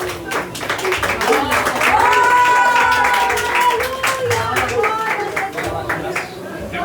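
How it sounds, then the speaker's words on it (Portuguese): A church congregation claps in praise during a communion service, a dense steady patter of many hands spread across the room, mixed with voices singing or speaking over it throughout. "As palmas louvam para Jesus."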